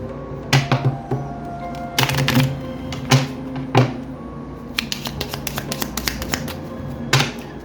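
Tarot cards are shuffled and riffled in irregular bursts of crisp snapping and flicking, close up, with brief pauses between rounds.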